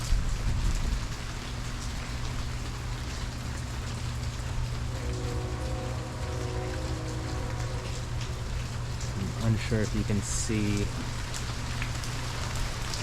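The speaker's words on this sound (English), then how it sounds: "it's just been raining like this for a while now" Steady rain from Hurricane Nicholas falls in Houston as a continuous close hiss of drops on surfaces. It holds an even level throughout, and a person speaks briefly over it near the end.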